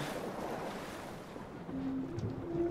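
Water sounds from the video game Uncharted 3 as the character swims, a steady wash of surf and wind-like rushing with a faint tonal hum later on, no speech.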